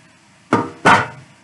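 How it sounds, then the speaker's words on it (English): Cooking spray sprayed onto a pan for chili: two short, close hissing bursts in quick succession, the second slightly longer, alone in a quiet kitchen. "Spray your pan."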